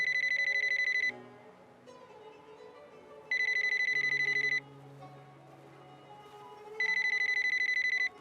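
A telephone rings in three electronic bursts, each lasting about a second, with pauses between them, over a faint indoor background.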